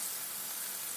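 Fatty cut of meat searing in a hot pan, a steady dense sizzle that stays even and loud throughout with no talking over it.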